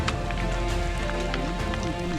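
Steady rain falling on a forest mountain trail in autumn, a dense continuous patter of raindrops on leaves and ground, close and even throughout, with no voices.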